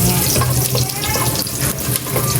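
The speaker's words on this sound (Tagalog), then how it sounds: "lulutuin na po natin itong lechon paksiw na tinilad-tilad po ni Bossing" Shredded lechon paksiw cooks in a pan with sautéed garlic and onion, giving a loud, steady close sizzle with a watery hiss throughout.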